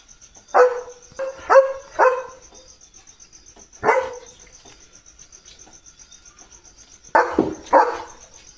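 A German Shepherd barks in clusters of sharp, loud barks, several in quick succession then single ones, over a steady chirping of crickets in the background.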